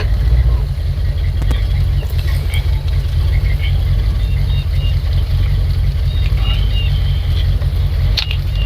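A 16-year-old's 1995 Mitsubishi truck pulls away outdoors, its engine a steady low rumble with constant road and wind noise and no talking.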